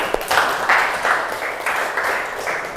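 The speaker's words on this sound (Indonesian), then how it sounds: "tepuk tangan lagi sekali ya" Students in a classroom give a short round of applause, with loud, even clapping close by for a few seconds.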